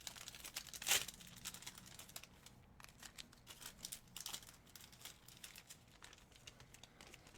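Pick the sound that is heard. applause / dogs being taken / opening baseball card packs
opening baseball card packs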